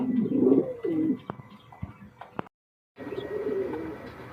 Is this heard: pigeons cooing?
yes